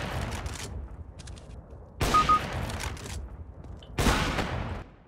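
Gunfire from the video game Counter-Strike Source: three sharp, loud shots about two seconds apart, each followed by a short ringing decay, with faint game sounds in between.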